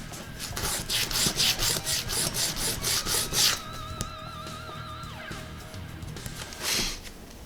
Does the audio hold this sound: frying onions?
no